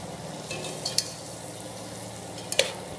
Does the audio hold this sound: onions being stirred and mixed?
yes